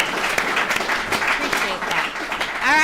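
At a recovery alumni meeting, a group applauds Justin with a brisk round of clapping while voices call out and talk over it, a louder voice rising near the end.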